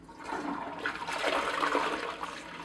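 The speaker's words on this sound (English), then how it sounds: "So here I'll flush it." A urine diversion toilet is flushed, and a quick rush of water swirls and gurgles close up for a couple of seconds, fairly loud and with no talking.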